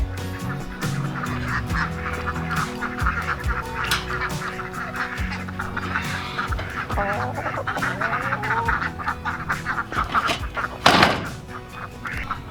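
Chickens and ducks in a homestead coop, a mix of honking, quacking and clucking calls, close and fairly loud, with thumps and a burst of knocking near the end.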